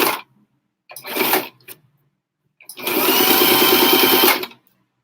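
Sewing machine stitching down the side of a fabric mask, with a short burst, a brief pause, then a steady two-second run of rapid needle clatter, close and loud.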